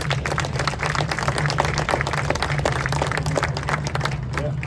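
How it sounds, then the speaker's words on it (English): Audience applause at a Deltic locomotive commemorative plaque unveiling, a steady dense patter of many hands clapping throughout, with a low hum beneath. "So big round of applause for this young man."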